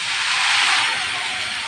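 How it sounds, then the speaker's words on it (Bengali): Onions sizzle in hot oil in a pan for a Bengali egg and potato curry, a steady bright hiss that holds evenly close up throughout, with no talking. "পেঁয়াজটা লালচা করে ভেজে নেব।"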